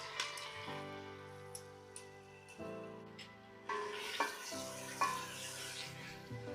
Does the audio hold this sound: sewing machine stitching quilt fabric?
no